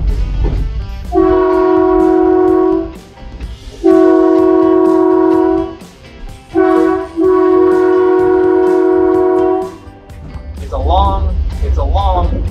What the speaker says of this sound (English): that's a typical train horn for lines or crossings